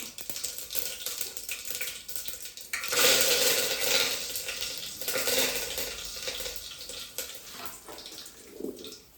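Asafoetida and curry leaves fry in hot oil in a home kitchen pan, a loud, dense crackling sizzle that flares up suddenly partway through and keeps spitting steadily close by, with no talking.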